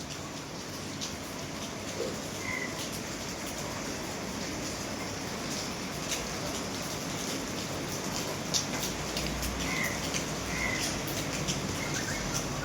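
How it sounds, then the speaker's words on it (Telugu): Light rain falling during a cool morning in Goa, a soft, even hiss of drizzle that holds steady throughout, with faint bird chirps now and then in the distance. "వర్షం అయితే ఇంకా లైట్గా కురుస్తూనే ఉంది."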